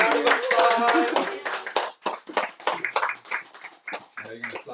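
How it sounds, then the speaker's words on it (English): Community event audience clapping and cheering, with loud voices and whoops mixed through the applause for a few seconds. "Big round of applause"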